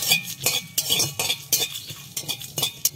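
A metal spoon scrapes and clinks rhythmically in a pan while coriander and cumin spice paste fries on a new clay stove, the stirring strokes close and regular with a light sizzle underneath.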